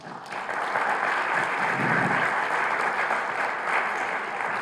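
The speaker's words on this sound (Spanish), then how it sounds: "lo recibamos con un fuerte aplauso" An audience at a cultural event breaks into strong applause, a dense continuous roar of clapping that swells quickly and holds steady throughout.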